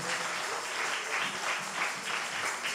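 A church congregation applauds and cheers, a dense, steady wash of clapping that carries on at even loudness throughout.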